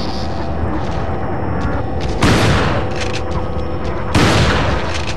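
Two heavy shotgun blasts in Resident Evil 4, each a loud close boom with a broad crack, spaced about two seconds apart over a low humming game background.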